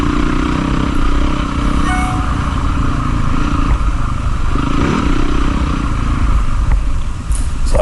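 An enduro motorcycle engine drones loud and steady throughout a dusty hard enduro ride, with faint clatter over the continuous roar and no voices.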